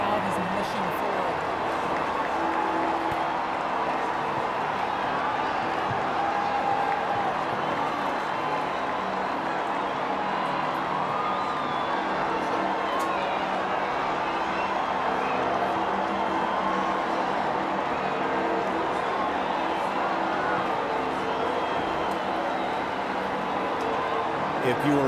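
The crowd in St. Peter's Square cheers and roars as a new pope is elected in 2013, a dense, continuous wash of distant voices under a commentator's talk.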